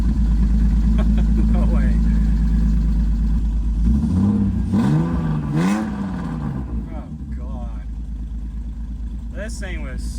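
A BMW E46 330i with a 3.0-litre engine, bought cheap and in poor condition, runs loudly and steadily near the microphone, then its note rises and falls in revs before settling back. People speak over it briefly.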